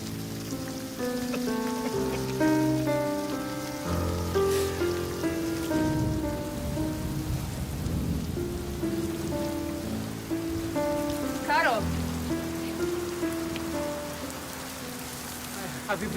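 Steady rain patters on surfaces throughout, with a layer of sustained music playing over the constant wash of drops.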